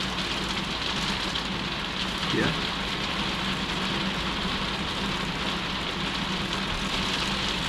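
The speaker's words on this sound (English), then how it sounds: "Yeah, we get hailstones." Hailstones fall outdoors in the Dolomites as a dense, constant patter with no let-up, and a voice speaks briefly.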